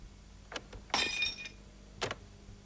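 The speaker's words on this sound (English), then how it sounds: "Let's play the recording of smashing glass into the computer." Smashing glass recorded into a 1984 Greengate DS3 sampler: a few sharp, bright crashes and tinkling shards, one main shatter followed by a smaller clink, fairly faint against a quiet background.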